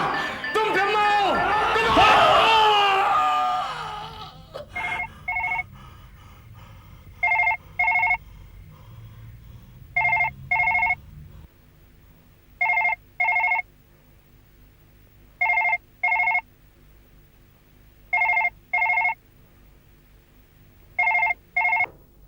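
Old-style telephone bell rings at night in a Hindi horror drama, sounding in repeated paired bursts with regular pauses after a loud, agitated voice and laughter at the start.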